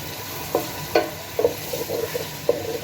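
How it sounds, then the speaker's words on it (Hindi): Onions hitting a cup of hot oil and frying, a continuous close sizzle punctuated by several sharp spatula stirs and clinks against the pan. "ये ऑयल आ गया और अब हम डालेंगे इसमें प्याज।"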